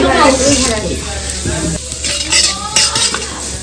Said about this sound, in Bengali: ভেজ ডালটা ফোড়নে দিচ্ছি শুকনো লঙ্কা তেজপাতা এলাচ আর হচ্ছে গোটা জিরে